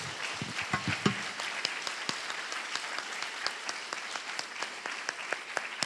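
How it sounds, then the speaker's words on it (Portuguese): A church congregation applauds in a worship service, starting with a few close sharp claps and then settling into steady, moderately faint clapping that continues throughout. "Se é para Jesus, vamos aplaudir."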